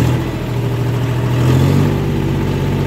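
A 2023 John Deere 5050 D tractor's diesel engine revs up from idle, a steady loud, close drone rising in pitch and holding high, with no talk over it.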